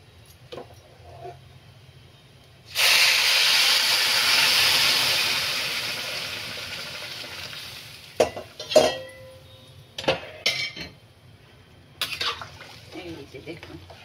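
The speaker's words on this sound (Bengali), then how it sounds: "এখন আমি এর মধ্যে গরম জলটা দিয়ে ঢেকে রেখে দেব সেদ্ধ করার জন্য" Hot water poured into frying moong dal khichuri in a pan sets off a loud burst of hissing steam that fades over a few seconds, followed by scattered clinks of lid and utensils.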